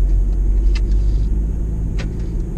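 A VW T-Roc 2.0 TSI with tuned software runs along the road, its steady low engine and tyre rumble heard from inside the cabin, with a couple of faint brief clicks over the drone.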